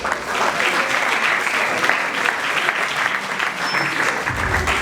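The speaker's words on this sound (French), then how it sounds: "On l'applaudit quand même." An audience at a live stage show applauds throughout, producing a thick, continuous wash of many hands clapping at an even loudness.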